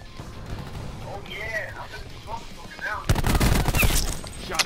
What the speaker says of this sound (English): Someone got a shotgun.